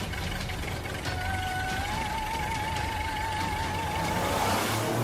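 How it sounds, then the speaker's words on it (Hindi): A jeep engine runs under steady road rumble as the vehicle pulls away, with a wavering tonal whine on top, moderately loud and continuous with no talking, set as an effect in a horror story. "शॉन जीप स्टार्ट करता है और सारे लोग बैठ के उस जगह जाने लगते हैं"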